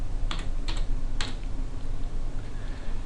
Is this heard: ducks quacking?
no